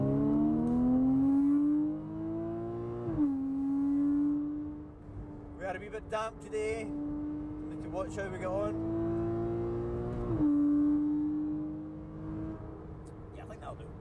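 A modified Porsche 987.2 Cayman S with a Design Tech exhaust driving on a damp road in sport mode, its engine droning steadily and rising in pitch through gears, with brief shifts and loud cabin presence under someone talking.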